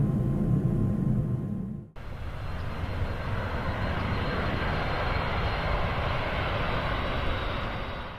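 Airplane engine drone in flight, a loud, steady, broadband roar heard close from the cabin, with a brief dip near the start before the constant rumble resumes.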